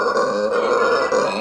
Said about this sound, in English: Do you think he's just burping a lot?